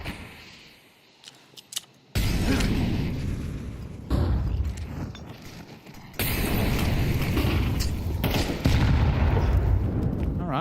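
Grenade blasts in Counter-Strike 2 at a tournament match: sudden loud booming bursts that erupt and decay into rumbling noise, several separate hits over the stretch with quieter gaps between.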